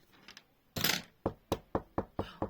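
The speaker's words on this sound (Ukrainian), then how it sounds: "Ой, дітки, до нас хтось стукає." Knocking on a door: a loud burst followed by five or six evenly spaced sharp knocks, close and clear, with no voices over them.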